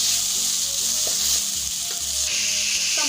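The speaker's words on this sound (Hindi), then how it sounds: "तमाम मसाले मैंने अच्छी तरह से मिक्स कर लिए हैं।" Minced meat (keema) sizzles loudly in a pan as spices such as black pepper, roasted crushed coriander and cumin, chili flakes and salt are stirred through, with steady frying and a few stirring bumps.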